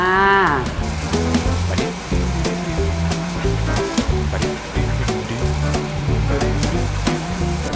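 Cooked spaghetti tossed into a hot pan of chicken and holy basil sauce sends up a loud, steady sizzle that rushes on continuously, close and dense throughout.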